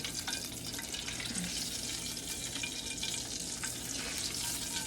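Homemade meatballs frying in oil in a pan, a dense continuous sizzle and crackle with faint watery bubbling, close and steady throughout with no talk.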